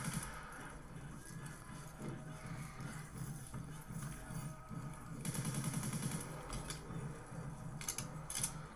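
Gunfire in Call of Duty Black Ops 3 custom zombies mode, with repeated shots and short bursts over steady game noise, a voice talking underneath.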